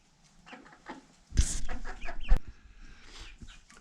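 Rhode Island Red chickens cluck in short, close bursts, with one louder squawk-like flurry in the middle and quieter clucks around it.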